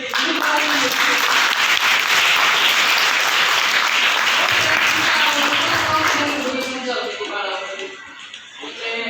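A crowd at a school science day claps for students in a loud, dense burst of applause that holds steady, then thins and fades toward the end as a voice begins speaking.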